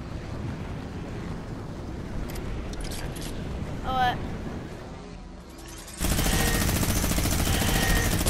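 A minigun in Fortnite Creative roars into continuous rapid fire near the end, a dense, loud, sustained burst, after a stretch of game noise and players talking.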